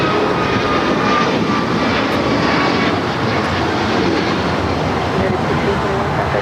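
A United Airlines Boeing 737 MAX 8 jet at Los Angeles International Airport gives a loud, steady broadband engine roar that holds constant throughout without fading, with no talk heard over it.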